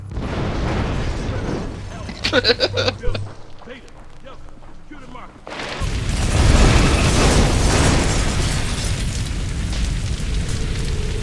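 Explosions boom out in the stealth action game Hitman Absolution, a loud rumbling burst with crackling debris, following a stretch of game sounds and talk.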